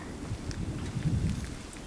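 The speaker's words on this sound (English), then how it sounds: "Yeah, well, it's thundering." Thunder from a storm in the Rocky Mountains rumbles as a steady, dense low roar with a wash of rain-like noise throughout, loud and continuous without distinct claps.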